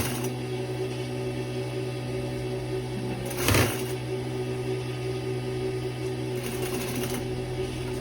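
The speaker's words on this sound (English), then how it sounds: "So we continue doing like so, sewing it." A sewing machine stitches a plunging yoke neckline in a steady, continuous mechanical whir at close range, with a brief louder burst partway through and no talking.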